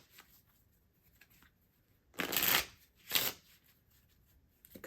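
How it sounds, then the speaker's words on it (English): A deck of playing cards being shuffled during a reading-challenge card game: quiet handling at first, then two loud, close riffle bursts of about half a second each, with faint rustling between them. "And shuffling."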